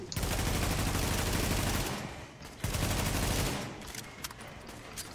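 Sustained automatic gunfire in Tom Clancy's The Division, a dense rattling barrage for about two seconds, a short pause, then another long burst that tapers into scattered shots; faint talk sits underneath.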